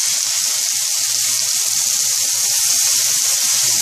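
A ribeye steak sears in a hot pan, giving a loud, steady, continuous sizzle close up with no talking over it.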